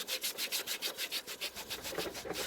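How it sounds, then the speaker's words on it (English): A baby wipe scrubs a stained, glitter-covered mat in fast, even back-and-forth strokes, making close, rhythmic rubbing swishes that run steadily for a couple of seconds without talk. "Grab the baby wipe and just scrub, scrub, scrub, scrub."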